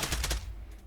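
Full-auto fire from a gun in a VR shooter game, a fast rattling burst of several close, loud shots that cuts off and leaves a fading tail.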